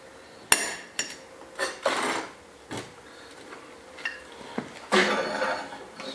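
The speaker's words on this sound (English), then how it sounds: "I'm just going to centre punch the holes to give me a mark to drill them out." Sharp metallic snaps in an irregular series, about eight or nine distinct clicks from an automatic centre punch marking holes in metal, close by in a quiet workshop.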